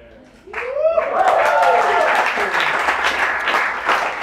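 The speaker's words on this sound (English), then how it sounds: "You're clapping" Audience clapping bursts out after a low tone and rises into loud, sustained applause at a coding bootcamp demo day in Bali, with a voice briefly heard at the start.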